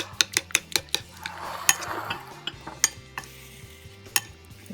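A Mexican salad with cilantro mixed together in a bowl, a quick run of bright clinking utensil taps against the dish followed by softer tossing and a few scattered clinks, with no talking.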